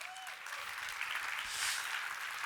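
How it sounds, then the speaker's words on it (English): Audience applause at an entrepreneurship talk on the brokerage world, a steady, dense wash of clapping from a crowd, sustained and fairly loud throughout without any voices over it. "One more round of applause."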